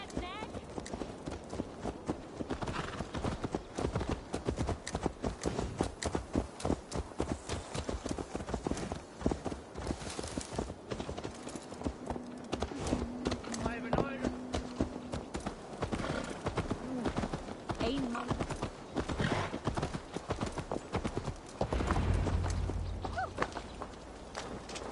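A ridden horse's hooves clip-clop in a steady, rapid rhythm throughout a Viking-era Assassin's Creed Valhalla scene, close and continuous with game ambience and voices around them.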